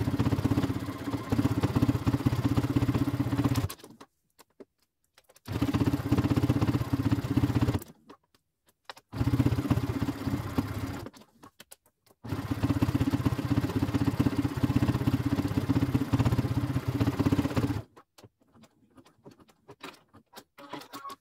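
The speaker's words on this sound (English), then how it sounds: "let me just sew this strap a little bit that it don't look bulky" A sewing machine stitches the strap of a handmade leopard print bag, running in several loud mechanical bursts of a few seconds each, separated by short silent pauses.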